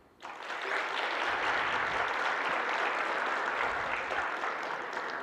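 A large conference audience breaks into sustained applause at once, a dense, even wash of many hands clapping that stays steady for several seconds.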